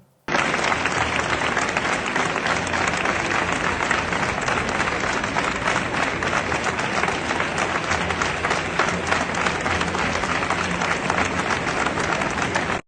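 Sustained, dense applause from a large crowd at the Fitur international tourism fair in Madrid, greeting Amazon, steady and loud from start to finish with no speech over it.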